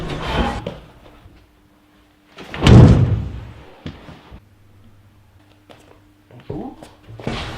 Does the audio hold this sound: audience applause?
no